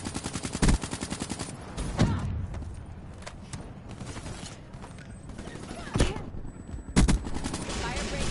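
Gunfire in the video game Call of Duty Black Ops 3, with several sharp bursts and single shots breaking out at intervals over a busy game background.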